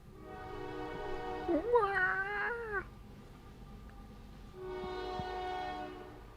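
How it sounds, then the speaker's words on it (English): A passing train sounds its horn in two long, steady blasts, with a loud cat-like yowl rising and wavering between them. "The train. The evil train."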